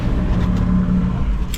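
A bus pulling away on a street in Thailand gives a mid-range engine drone, rising slightly as it revs, close and steady with no talking.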